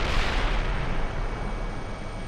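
Artillery indirect fire in the Steel Beasts Pro PE tank simulator sounds as a loud, sustained low rumbling barrage that sharpens at the start and slowly eases off over a couple of seconds.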